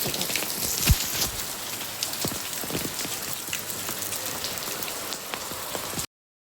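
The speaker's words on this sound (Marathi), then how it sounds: "आज चांगला मस्त पाऊस चालू आहे" Steady monsoon rain pours down in Mumbai, a dense close hiss with scattered sharp drips and patters on a hard surface, no voices, ending in sudden silence.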